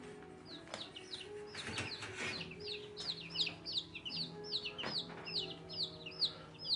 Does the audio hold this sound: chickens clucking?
yes